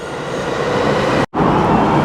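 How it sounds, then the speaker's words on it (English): A train passes near a station in Osaka, Japan, a loud steady rumbling roar with a brief sharp drop-out midway before the noise resumes just as strongly. "there's a train"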